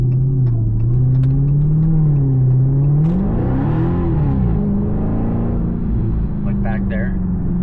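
A 2023 Dodge Charger Hellcat accelerating hard at full throttle, a loud, deep engine drone that rises and swells while a person talks over it.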